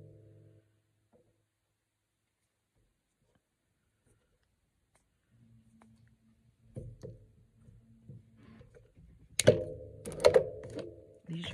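A craft knife cuts away the surplus material from a homemade carved rubber stamp at a desk, with faint scraping followed by louder clicks and thunks as the pieces are trimmed and handled. A voice is heard briefly at the start.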